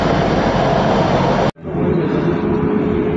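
A UK train rumbles in a loud, broad, steady roar that cuts off abruptly, giving way to a quieter, lower cabin hum with a faint steady tone.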